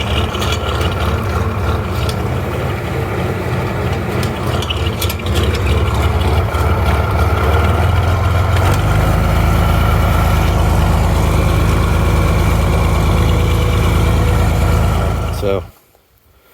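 Oliver 1755 tractor engine running loud and close, a steady heavy rumble that shifts to a deeper, stronger drone partway through before cutting off abruptly near the end.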